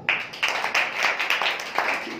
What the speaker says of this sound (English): welcome her with big round of applause